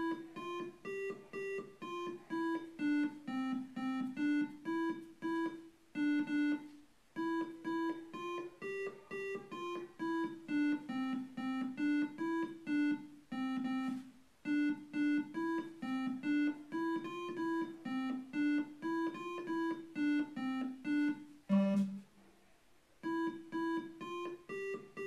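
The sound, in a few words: Ode to Joy played on an Arduino harp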